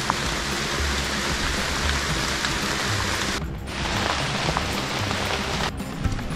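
Rain falls steadily among stacked rock formations in a misty, forested cave area, a dense wash of drops with two brief dips in the noise and no voices.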